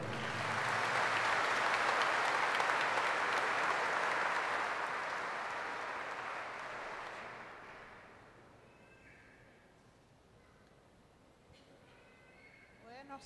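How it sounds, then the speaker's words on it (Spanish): Congregation applause at a healing Mass in church, a dense broadband wash of clapping that swells for about seven seconds, then fades to a quieter room with scattered sounds and voices. "El aplauso para el Señor."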